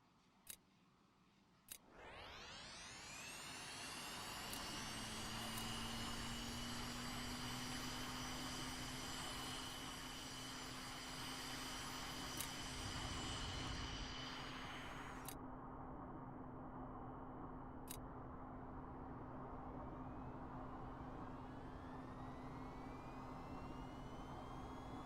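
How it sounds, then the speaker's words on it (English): VTOL aircraft engines in a video game start up, a turbine whine climbing sharply in pitch, then settling into a loud, steady jet roar with a lingering high tone that drops away near the end. "let's start up our engines here"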